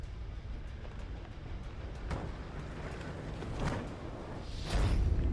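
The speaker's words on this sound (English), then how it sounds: "a giant train now." A giant train in the video game Necromunda: Hired Gun rumbles past with a low, heavy rolling drone and passing whooshes that swell louder toward the end, alone without talk.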